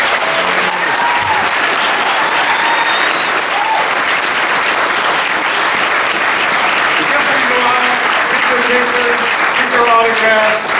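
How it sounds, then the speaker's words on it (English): A live audience at a convention panel claps in sustained, dense applause that fills the room, with a few voices calling out over it. "Would everybody give a bigger round of applause to our panel?"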